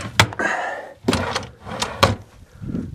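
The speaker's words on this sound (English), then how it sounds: "Let's just go check these drawers." Drawers in a holiday rental room in Wales being pulled open and pushed shut, giving three or four sharp wooden thunks and slides spaced about a second apart, close by with no talking.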